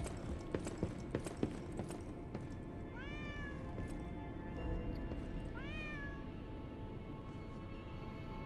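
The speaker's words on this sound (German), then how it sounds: "Keine Ahnung, wo die Katze jetzt abgeblieben ist." Cat meowing in the video game Lies of P, two clear drawn-out meows a few seconds apart over a busy game soundscape with light footstep-like taps.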